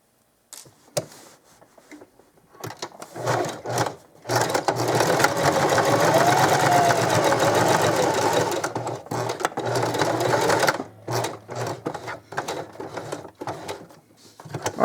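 A sewing machine stitches a fabric crayon roll, whirring steadily and close up for several seconds, with short start-and-stop bursts before and after the long run. There is no speech.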